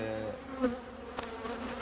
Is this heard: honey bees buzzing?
yes